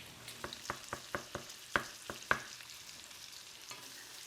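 Bacon fries quietly in a pan for a game day dip, giving soft sizzling with a run of small crackling pops, a couple of them sharper, fading toward the end.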